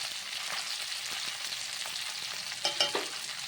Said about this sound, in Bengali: আর ভালো করে কিন্তু কষিয়ে নিতে হবে তো বেশ কিছুক্ষণ আমি কষিয়ে নিয়েছি